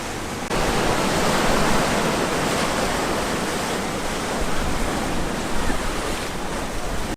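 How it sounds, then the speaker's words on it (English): Surf washing onto Pirates Cove, a hidden beach in Malibu, as a steady, loud, broadband roar of breaking waves that holds unbroken throughout with no voices. "as you can see, Pirates Cove is an awesome hidden beach"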